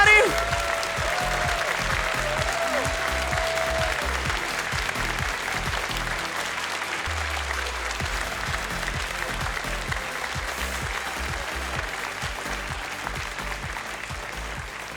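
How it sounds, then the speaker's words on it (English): A convention crowd at a furry song contest show applauds contestants on stage with sustained, dense clapping for about fifteen seconds, while a voice briefly speaks over it early on. "Give them a round of applause,"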